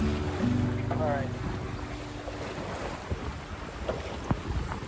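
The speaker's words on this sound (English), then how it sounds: "I think the wind is really picking up." Strong wind roars across the microphone aboard a sailboat on the Great Lakes, a steady loud rush with water sloshing and occasional knocks, with a person speaking briefly early on.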